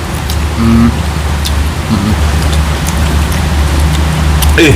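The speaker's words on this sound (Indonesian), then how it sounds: "Hujannya lah." Rain falls steadily, a loud, constant wash of drops with a low rumble beneath and a few faint tonal sounds mixed in.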